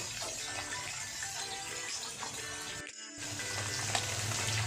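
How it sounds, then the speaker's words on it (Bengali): Bata fish frying in a pan, heard as a steady, fairly quiet sizzle and crackle of oil. It drops out for a brief moment and then returns slightly louder, with no talking. "আমি বাকি মাছগুলো ভেজে নিচ্ছি আমার মাছ ভাজা সব হয়ে গেল"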